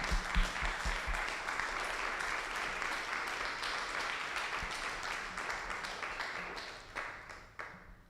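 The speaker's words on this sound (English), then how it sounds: "if you could all give them a round of applause" Sustained audience applause for board members standing at a Marketing Society Middle East event, a dense wash of many hands clapping that holds steady for about seven seconds, then thins and fades toward the end.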